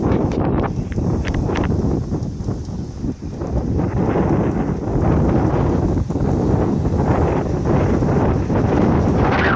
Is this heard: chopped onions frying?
no